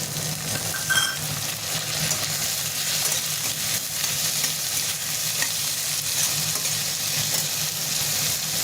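Potatoes and ginger-garlic paste fry in a pan while being stirred for pulao, a steady close sizzle with scraping strokes running throughout, no voices.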